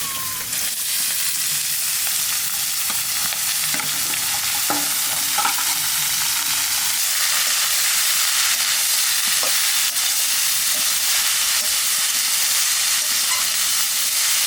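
Ash gourd pieces hiss and sizzle steadily in hot oil with cumin seeds and green chillies, a dense, loud frying noise with occasional stirring scrapes and no talk.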